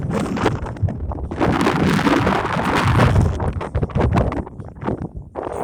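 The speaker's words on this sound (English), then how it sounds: "Got a lot of wind." Strong outdoor wind batters the microphone with loud, continuous rumbling and buffeting gusts that rise and fall for several seconds, and no clear voice is heard.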